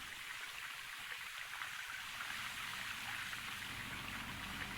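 Water running from a hose in the Gold Rush The Game video game, a steady broad hiss of flowing spray, fairly quiet and continuous, with no talk.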